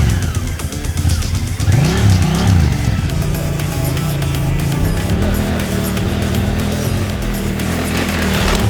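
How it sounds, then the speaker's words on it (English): A Honda Africa Twin motorcycle engine idles and then revs up and down close by at an off-road riding centre, its rough throttle blips rising and falling over several seconds. "Start your engine up, clutch in."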